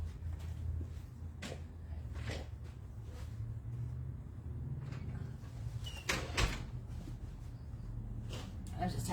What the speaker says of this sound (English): Let me close that door.